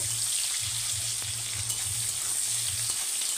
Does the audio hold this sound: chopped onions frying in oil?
yes